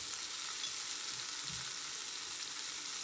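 Courgette frying in a pan with broccoli, giving a steady, even hiss of sizzling oil throughout with a faint stir or clack near the middle.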